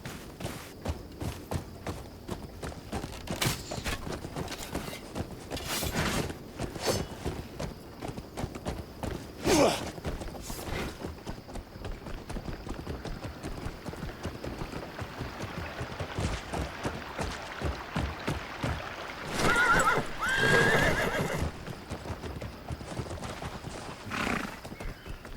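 A horse galloping and neighing in the video game Crimson Desert, with rhythmic hoofbeats throughout under a battle-filled soundscape, and louder bursts and whinnies rising around the middle and near the end.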